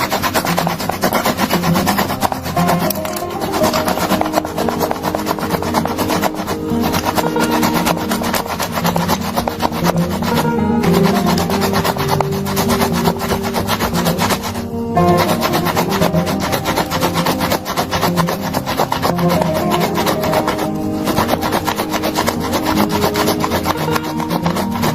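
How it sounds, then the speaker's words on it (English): A small tomato is shredded on a grater with continuous rough rasping strokes, loud and close, repeating steadily throughout with only brief pauses. "with a grate or shredder, shred the tomato like so."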